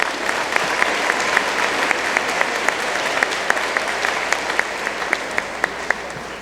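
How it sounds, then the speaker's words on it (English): An audience claps for students at an eighth grade awards ceremony, a dense sustained round of applause from a crowd indoors with a few sharp individual claps standing out, no voices heard over it. "Let's give all those students one more round of applause."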